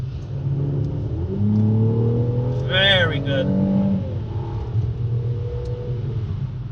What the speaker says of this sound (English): That exhaust note though, it sounds fantastic.